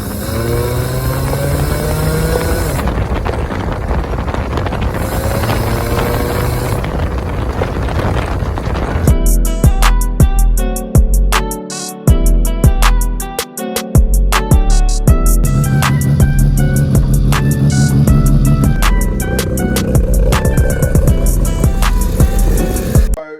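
A homemade rotary-engined trike runs during a ride, its engine a loud, continuous buzzing drone with rising and falling revs and bursts of wind buffeting over the microphone, no talk.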